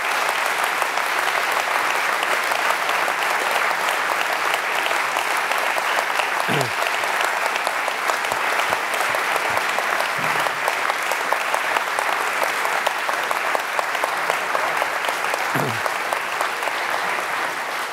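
Sustained, loud applause from a lecture audience after a speaker's talk on the climate crisis, a dense and even wash of clapping that fills the whole stretch, with a few faint low voices beneath it.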